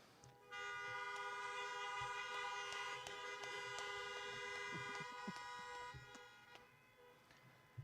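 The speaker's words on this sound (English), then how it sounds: "I only want to speak when there's honking from now on." Car horns from many vehicles at a 2020 drive-in high school graduation honk together in a sustained, overlapping chorus, with extra short toots scattered throughout, heard from a distance outdoors.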